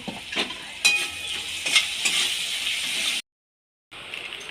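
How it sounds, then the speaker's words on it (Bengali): Onions with a pinch of salt fry lightly in a pan, a close, even sizzle with a few stirring scrapes, briefly cut to silence before the frying resumes. "দিয়ে হালকা ভেজে নেব"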